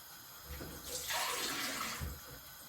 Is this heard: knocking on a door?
no